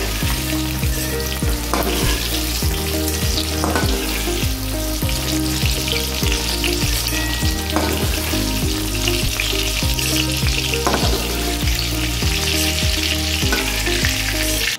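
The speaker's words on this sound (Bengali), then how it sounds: "টমেটোটা একটু নরম নরম হয়েছে, আমি বেশি ভাজবো না" Green tomato pieces fry in a pan of oil with a loud, continuous sizzle that stays close throughout, with occasional soft stirring bumps and no talking.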